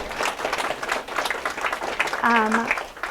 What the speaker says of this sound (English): Can we give a round of applause for her?